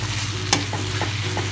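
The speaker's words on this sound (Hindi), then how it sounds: "फ्राई करते हैं ताकि प्रॉपर ब्राउन हो जाए" Onions frying in a pan for a spicy Old Delhi-style chicken gravy, a steady close sizzle with a sharp scrape of a spoon and a few lighter stirring knocks, no voices.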